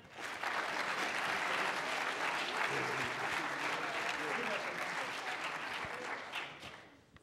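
A crowd at a collegiate cyber defense competition awards ceremony gives a big round of applause, dense and sustained clapping that holds steady for about seven seconds before tapering at the end.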